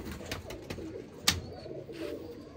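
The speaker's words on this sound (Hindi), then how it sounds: "इसकी ये कबूतरी है।" Tarzan pigeons in a coop, a pair of male and female birds, giving soft cooing calls close by, with some rustling and a brief sharp tap in between.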